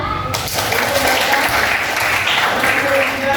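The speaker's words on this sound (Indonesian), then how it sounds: "Tepuk tangan." A classroom group claps continuously at moderate volume, a brisk patter of hands that holds steady from start to finish.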